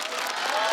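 A brief wash of audience applause for a stand-up comedian on a Chinese comedy competition stage, steady and fairly soft throughout.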